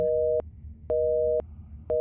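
Busy signal from a telephone in an indie horror video game: steady, evenly spaced beeps, each about half a second long with equal gaps, clear and alone over a faint low background hum.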